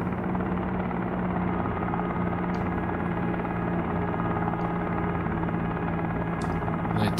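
A game helicopter's engine and rotor run at a steady, loud, unbroken drone with a constant low hum, heard alone without talk.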